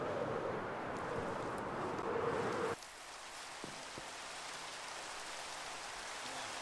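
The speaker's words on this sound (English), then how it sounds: "let's clear out this rain real quick" Rain falling in the Minecraft video game, a dense steady hiss that cuts off abruptly partway through, leaving a quieter background with a couple of faint clicks.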